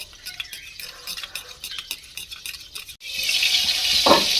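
Tomatoes fry in a pan while being stirred, soft sizzling with scraping strokes that swells into a louder hiss near the end, no talk.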